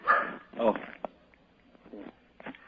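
Small dog whimpering and giving short yips and barks close by indoors, a few brief bursts in quick succession, faint between them.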